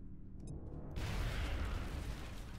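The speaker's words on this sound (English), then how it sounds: "Let's grenade him." A grenade explodes in XCOM: Enemy Unknown Long War, a sudden broad blast about a second in that swells into a sustained rumbling roar, heard alone with no talk, fairly quiet overall.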